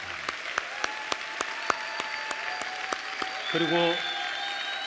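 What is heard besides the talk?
congregation applause in church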